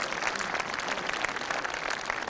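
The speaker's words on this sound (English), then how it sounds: "Let's just give them a nice round of applause." Applause from an audience for fire department personnel at a high school FAA accident simulation, a steady continuous patter of clapping that is fairly loud and sustained throughout, with no talk over it.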